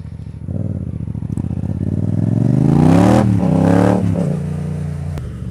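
A motorcycle on Pirelli Angel GT road tyres revs and accelerates up close, its engine note rising in pitch to a peak, then easing back to a steady drone.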